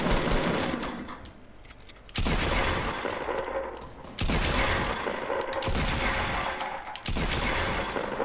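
Bursts of rapid automatic gunfire in Fortnite, a loud run of shots coming in three or four waves with brief lulls between volleys, close and continuous.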